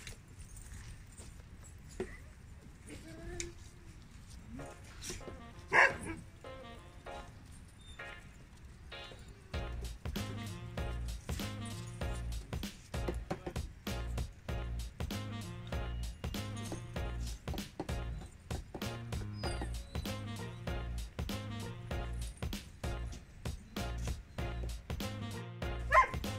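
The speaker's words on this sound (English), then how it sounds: "all of these dogs always have so much to say in the morning" Huskies in a morning dog yard bark in rapid, repeated bursts, a few sharp yips at first and then a dense, loud chorus of barks overlapping one another.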